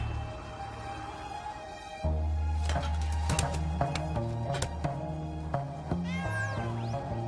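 Pet cat meowing several times in a row, fairly close and clear, with short rising and falling calls spread over a low steady background hum.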